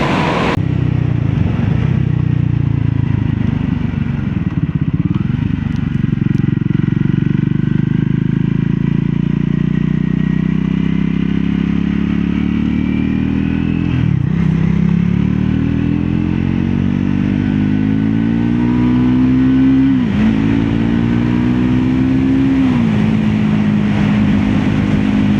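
A Triumph Scrambler 400 X motorcycle is ridden on the road, its engine droning loudly and continuously with rising and falling revs and a few gear changes, wind noise throughout and no talk.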